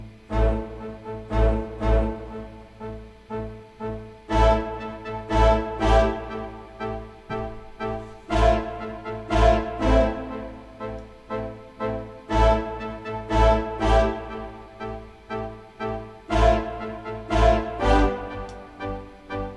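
Rhythmic arpeggiated synth patterns from the Sample Logic Arpology library pulse in repeating plucked bursts over a deep bass beat, loud and driving, with no voices.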